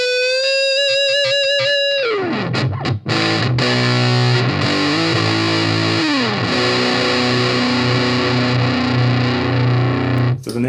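High-gain distorted electric guitar played through a NUX Amp Force amp and cabinet simulator, starting with a sustained bright note, then heavy crunchy chords ringing loud and saturated.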